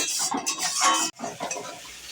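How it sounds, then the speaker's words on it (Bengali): Spice masala with salt and a little sugar sizzling and crackling in a hot pan, a close, continuous fry broken by one brief pause of stirring. "এবার এটা একটু ভেজে নেব।"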